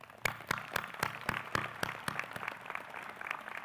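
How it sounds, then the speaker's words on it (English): Applause from a crowd at a high school graduation commencement ceremony, with sharp, loud claps repeating at a steady rhythm over about four seconds above a dense wash of clapping. "Let's all give her a round of applause."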